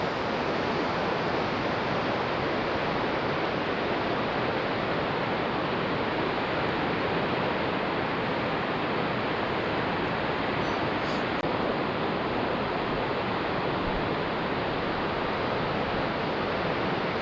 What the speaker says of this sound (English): We enjoyed viewing the waterfall so much, we decided to stay until nightfall